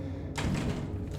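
A door opens in a video game with a single solid thump and a short rushing slide, heard close and fairly loud, then trailing into a soft rumble.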